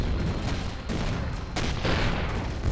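Starter cannons fire in the space game Avorion, a dense burst of rapid booming shots with a couple of sharper blasts, loud and continuous, with no talking.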